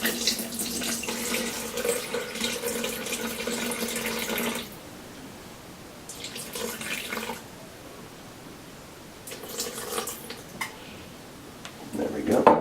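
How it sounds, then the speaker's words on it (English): Water pours from a tap in bursts into a sourdough mixture in a kitchen, a steady splashing stream that stops and restarts several times. "to this we're going to add 230 grams of water, which is pretty much 1 cup"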